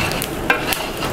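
A large pot of chicken masala gravy, part of a 30 kg batch, being stirred with a steady scraping churn over a faint sizzle, with a couple of sharper knocks of the spoon against the pot.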